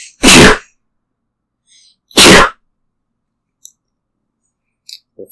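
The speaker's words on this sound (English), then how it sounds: "I'm gonna sneeze." Two sharp sneezes about two seconds apart, followed by a few faint clicks in otherwise quiet surroundings.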